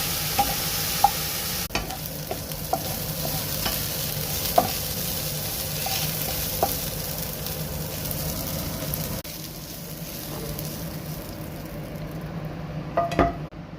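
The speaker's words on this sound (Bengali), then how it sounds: "হয়ে গেছে আমার ফুলকপি ভাজি।" Cauliflower pieces fry in hot oil with a continuous close crackling sizzle. A spatula scraping and tapping against the pan punctuates it at irregular intervals throughout.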